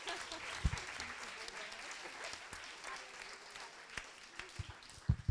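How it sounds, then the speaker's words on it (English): Audience applause for a moderator at a pitch night event in Paris, a moderately faint, steady patter of clapping from a modest crowd with a few louder nearby thumps, talk faintly mixed in. "I also would love to give a huge round of applause to Marion"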